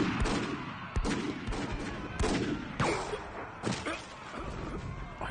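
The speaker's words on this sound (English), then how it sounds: "Return fire!" Rapid gunfire crackles through a samurai-versus-zombie movie battle, loud repeated shots and sharp cracks echoing in close succession amid chaotic rumbling.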